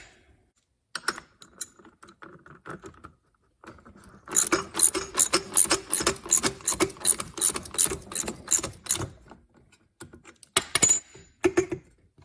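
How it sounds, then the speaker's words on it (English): A wrench tightens a reverse-threaded nut on a string trimmer blade adapter, giving rapid clicking ratchet-like bursts close up, with a dense run in the middle and sparser clicks before and after. "now I'm going to need to put a wrench on that to tighten that up"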